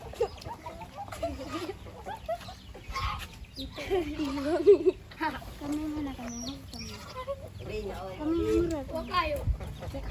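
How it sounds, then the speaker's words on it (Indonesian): A chicken clucks repeatedly at a middle distance in a primary school classroom, its calls weaving under and between a teacher's and pupils' talk. "Ada ayam."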